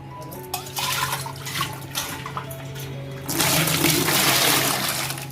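Water pours and splashes steadily over a new clay water pot being rinsed clean, growing louder and fuller in the second half, with no talk.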